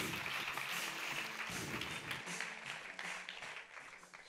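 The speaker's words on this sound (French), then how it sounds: "Merci de lui faire de chaleureux applaudissements." Applause from a conference audience at a motivational talk event, a steady dense wash of clapping that stays fairly loud, then thins and fades slightly toward the end.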